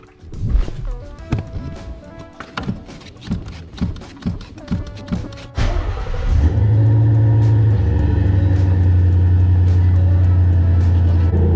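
A Ford Mustang GT engine with a Flowmaster exhaust cranks with a rhythmic chugging, then fires up into a loud, deep, rumbling idle that holds steady and throaty.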